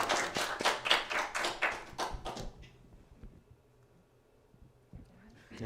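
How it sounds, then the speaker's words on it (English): A small crowd claps in a quick burst for about two seconds, then the applause fades out, leaving a quiet room. "Can we get another round of applause for"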